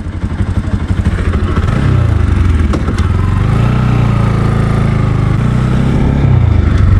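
A motorcycle on a ride through the Chitwan area of Nepal, with its fuel down to reserve, sounds a loud, close, steady engine drone with wind buffeting and a rising rev partway through.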